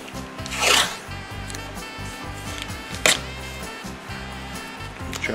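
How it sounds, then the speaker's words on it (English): Fresh tape tears off the roll in two quick, bright rips with light rubbing and handling in between, over a low rumbling background. "let's get some new tape, just because it's cheap and it's easier to mix on fresh tape"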